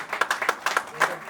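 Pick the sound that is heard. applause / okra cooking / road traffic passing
applause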